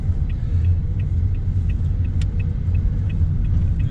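A car drives along a city street, a steady low road and engine rumble from inside the cabin with faint light ticking and no speech.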